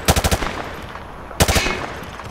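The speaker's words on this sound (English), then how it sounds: "Grab that weapon off the table and fire at the targets behind you." Automatic weapon fired from the hip in Modern Warfare 2: a rapid, loud burst of four or five sharp shots, a brief lull, then a second burst that rings out with a lingering echoing tail.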